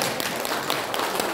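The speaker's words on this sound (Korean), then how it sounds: "지금 이 장면에서 여러분들이 박수 한번 쳐주세요." An audience at a lecture breaks into applause, a dense, steady wash of many hands clapping at once, loud and close, filling the whole moment without talk.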